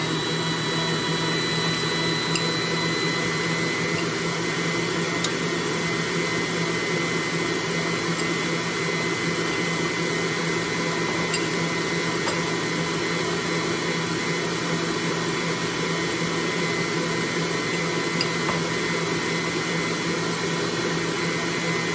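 A mixer whips meringue as sugar is added, giving a steady, unbroken motorized whir that holds at an even level throughout, with no voices.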